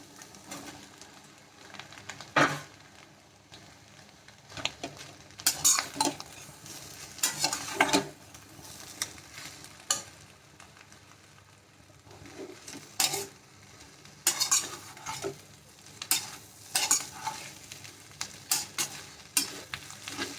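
Cut parotta pieces being stirred and fried with mutton in a pan for kothu parotta, with irregular bursts of scraping and clattering over a steady sizzle, close and moderately loud.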